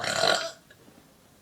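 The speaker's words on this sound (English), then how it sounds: "You can't even burp." Single loud burp up close, a short raspy belch followed by quiet and a faint breath.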